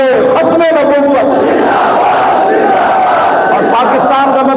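A Tehreek-e-Labbaik protest crowd in Pakistan chants religious slogans in unison, a loud, dense wall of voices that carries on unbroken.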